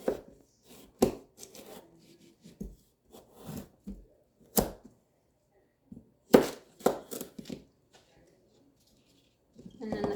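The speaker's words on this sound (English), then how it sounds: "Now I'm just gonna chop up my carrots." Carrots chopped with a knife on a cutting board during home soup prep, a series of sharp, separate knocks in irregular bursts with short pauses, fairly close and moderately loud.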